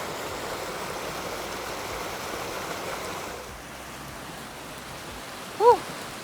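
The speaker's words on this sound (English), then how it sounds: "Waterfall." A waterfall on a snowy trail gives a continuous rushing wash that softens partway through, then a short bright whistle-like cry cuts in near the end.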